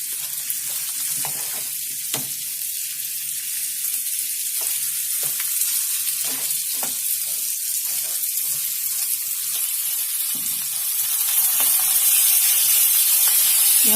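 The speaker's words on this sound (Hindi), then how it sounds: "हमारे अनियन, चेरी टमाटो और हमारी शिमला मिर्च, ऐसे भी हमें भूनना है अच्छे से" Onion, cherry tomato and capsicum fry in a hot pan, a steady close sizzle broken by scraping stirs and occasional clatter, growing slightly louder near the end.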